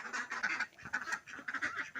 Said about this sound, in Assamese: আকৌ হাঁহখিনি যি আমনি কৰিছে, ভাবিলোঁ দানা কেইটামান দি দিওঁ।